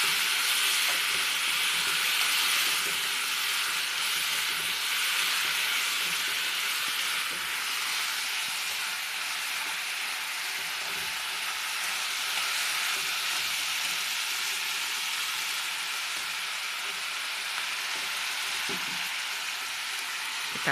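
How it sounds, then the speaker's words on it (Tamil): Tomatoes sautéing in a pan for a mushroom dish give a steady, even sizzle and hiss that holds at a moderate level throughout, with no talking. "அதுக்கு பிறகு அது கூட தக்காளியை போடுங்க. நல்லா வதங்கட்டும்."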